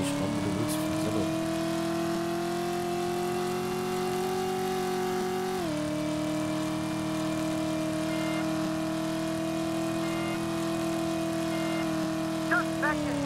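A car's engine drones steadily while driving in the game Driver, its pitch holding level with one brief drop as it shifts, loud and continuous with no voices.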